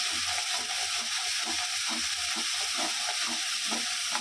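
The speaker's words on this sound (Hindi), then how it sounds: "इसको अच्छे से भूनेंगे" Vegetables with turmeric and spices fry steadily in a pan for a Vrindavan-style sabji, a constant close hiss with soft scraping and clicking stirs repeating throughout, and no one speaks.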